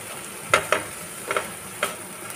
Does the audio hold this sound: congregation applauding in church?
no